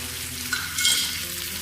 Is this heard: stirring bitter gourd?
yes